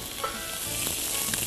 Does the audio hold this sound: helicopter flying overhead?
no